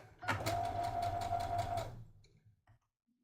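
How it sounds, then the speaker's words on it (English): A domestic sewing machine stitches a quick test line on fabric in a steady, rapid mechanical run of about a second and a half. A few faint clicks follow after it stops. "So I'm just gonna throw some test fabric down. And just sew a line real quick."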